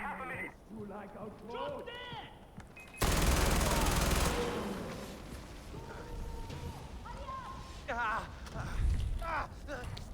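An MG42 machine gun fired in the Far Cry 4 video game: one loud burst of rapid automatic fire lasting about a second, heard amid game sounds and ongoing talk.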